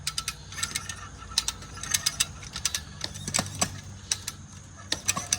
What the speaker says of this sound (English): So as I crank on my come along, you'll see this thing starting to stretch.